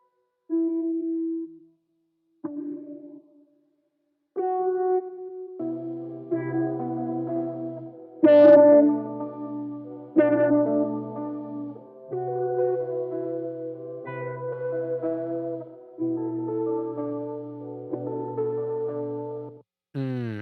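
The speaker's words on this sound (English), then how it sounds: "it will be modulating the cutoff frequency, but also the spacing and the panning of the signal" A hazy, lo-fi synth sample with sustained tones and a low drone, its filter cutoff and stereo panning modulated so the timbre slowly sweeps and shifts, with pauses between the opening phrases.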